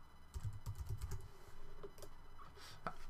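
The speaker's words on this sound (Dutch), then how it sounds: "Ik typ het even zo, heel erg simpel." Typing on a computer keyboard comes through as quick clusters of light clicks and taps, close and fairly quiet, with brief pauses between bursts and no speech.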